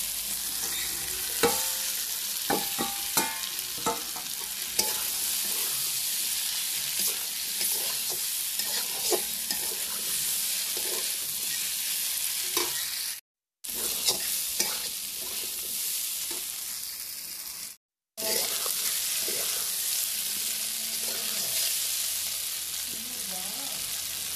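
Vegetable curry sautéing with ground spice paste including coriander, stirred steadily in a pan, with continuous sizzling and frequent scraping clinks of a spatula, loud and close, briefly broken by two short gaps.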